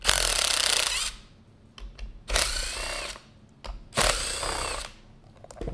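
A power driver with a 13 mm socket loosens the seat bolts on a WaterRower rowing machine's rails. There are three loud whirring bursts separated by short pauses and small clicks, close up, with no talk.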